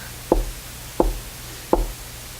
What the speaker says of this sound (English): he heard on the door the soft knock